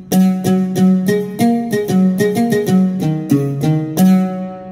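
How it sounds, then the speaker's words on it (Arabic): Oud voice on a Yamaha PSR-A5000 keyboard, struck hard: plucked notes ring out in a steady melodic run, each attack sharp with a short bright decay, played alone and close, with no audible key noise. "الحين بحط لك هذا صوت العود واسمع"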